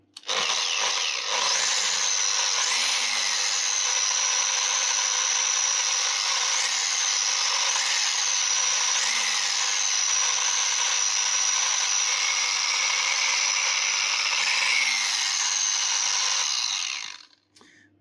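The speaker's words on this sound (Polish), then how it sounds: "Szlifierka ma 900 W, także to jest połowę za dużo." A 900 W angle grinder runs on a Baseus 600W BPM600C LiFePO4 portable power station. It makes a loud, sustained, high-pitched whine that holds steady for about seventeen seconds and then cuts off abruptly.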